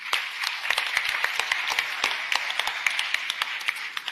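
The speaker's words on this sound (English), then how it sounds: "So I want us to give him a round of applause." Attendees at the Afreximbank annual meeting applaud President Oramah, a moderate crowd whose individual claps stay distinct and crisp, forming a busy, uneven patter that carries on without pause.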